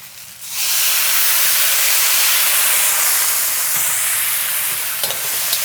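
Rice wine hitting a hot pan of crab, bursting into a loud, steady sizzle and steamy hiss that holds strong throughout after a brief quieter start.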